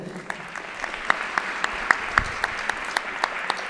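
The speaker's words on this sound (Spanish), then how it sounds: "Os pido un aplauso también para él." Applause from an audience in a church, steady clapping with a few sharper claps standing out, fairly close and sustained for a few seconds.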